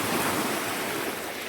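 Big waves wash in on Lake Michigan with a continuous hissing surge of surf, close and fairly loud, with some wind buffeting the microphone.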